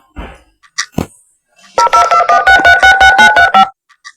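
Telephone keypad tones sound in a Roblox hotel game: a few scattered clicks, then a rapid run of about a dozen loud, evenly spaced dialing beeps, followed by silence.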